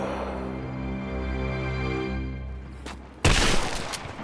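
Burst of gunfire in the Rise of the Tomb Raider video game, a sharp loud crack breaking in near the end after a sustained low droning tone.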